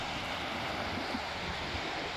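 Calm sea at Colwyn Bay beach, a soft continuous wash of gentle surf mixed with light wind noise, steady and fairly faint with no distinct breaking waves.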